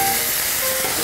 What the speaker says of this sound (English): Be careful, it might spit a little bit.